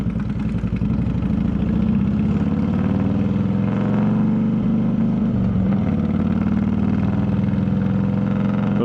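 A Harley-Davidson Twin Cam motorcycle engine runs roughly while riding, a loud, close, continuous low throbbing drone with uneven pulsing and slight pitch shifts, no voices.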